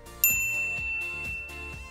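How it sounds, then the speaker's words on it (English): A bright notification bell ding strikes once sharply, then its clear ringing tone lingers and slowly decays while soft background music continues underneath. "ring the bell to be notified about our latest videos"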